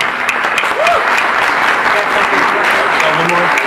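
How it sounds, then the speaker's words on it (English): A room audience gives a sustained round of applause, dense steady clapping throughout with faint voices and whoops mixed underneath. "if you give everyone a round of applause"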